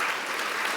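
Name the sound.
audience applause after the quiz round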